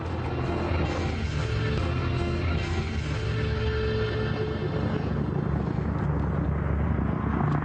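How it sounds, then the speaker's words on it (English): An Apache Longbow attack helicopter gives off a continuous, fairly loud roar of rotor and engine that holds steady throughout with no break. "Coming up, the Apache Longbow in action."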